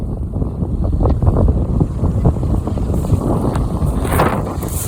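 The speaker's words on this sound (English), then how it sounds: "It's a bit windy." Steady wind buffeting the microphone on a UK sea-fishing shore at Brighton, a constant low rumble with gusty swells throughout, no voices.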